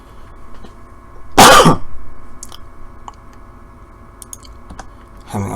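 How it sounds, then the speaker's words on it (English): A single sharp cough bursts out close to the microphone amid quiet keyboard clicking, followed by a few soft clicks and a short second throat sound at the end. "Having a bit of a cough."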